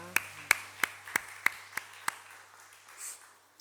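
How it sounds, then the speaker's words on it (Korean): Seven separate hand claps at a church Sunday service, a sharp, evenly spaced rhythm roughly every third of a second that stops partway through, with a faint low hum underneath. "원하는 큰 축복의 박수 부탁합니다"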